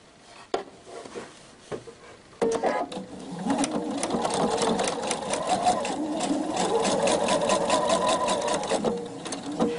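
A sewing machine stitches a one-centimetre seam across a kimono, starting after a few soft clicks and handling sounds, then running in a steady close rattling hum for several seconds before stopping.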